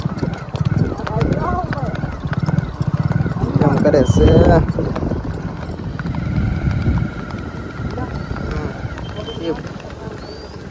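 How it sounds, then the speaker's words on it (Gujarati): A mare's hooves clip-clop steadily under people talking, with a rushing wash of rain in the background. "ઘોડીની સવારી કરે છે"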